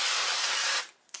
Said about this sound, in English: again I'm going to spray this side with some avocado oil.